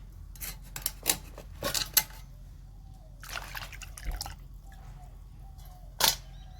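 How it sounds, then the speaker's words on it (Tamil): Scissors snip through crab shell while preparing crab gravy, giving several sharp crunchy cuts close by, spaced irregularly with wet handling sounds and quiet pauses between them. "இதை அப்படியே கட் பண்ணி போட்டுறணும்."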